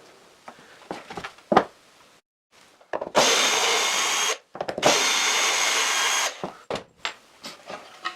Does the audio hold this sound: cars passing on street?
no